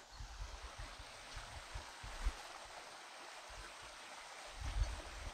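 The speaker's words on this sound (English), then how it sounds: "cascades on your property" Water cascades down a stream in the lush hills of central Portugal, a steady broadband rush with low rumbles and occasional wind buffets on the microphone.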